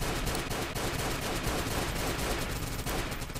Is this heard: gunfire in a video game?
yes